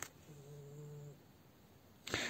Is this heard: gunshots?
no